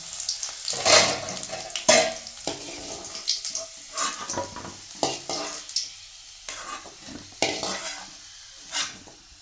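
Garlic and ginger frying in a pan for thuthuvalai thuvaiyal, a steady close sizzle broken by repeated scraping stirs of the spatula, with no talking.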